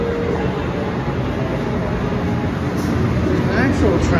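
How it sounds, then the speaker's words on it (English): A theme park train at Universal's Islands of Adventure, Orlando, rumbles past close by with a loud, continuous low roar and faint clacking, steady throughout with some background chatter. "And there's the train."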